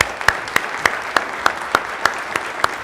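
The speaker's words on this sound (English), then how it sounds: "let's give them a big hand of applause" Audience applause for industry panelists at a talk on 5G wireless, heard as a steady, evenly spaced series of crisp claps, about three per second, with no talking.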